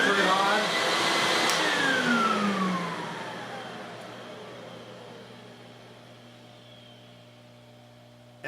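A Lincoln Electric X-Tractor 1GC fume extractor whirs loudly as it sucks air, then its pitch falls and it settles to a steadier, quieter hum, ending with a brief click.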